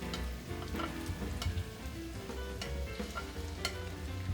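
Chow mein noodles and vegetables get tossed in one pan with a soft, steady sizzle, and sharp spatula scrapes and clicks come every half second or so, moderately quiet and close, with no voices.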